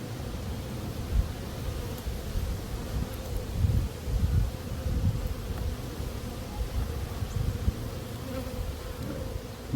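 Honeybees buzzing in an open beehive during a pre-winter hive check, a dense steady hum close by with a rustling texture, continuous and alone with no talking.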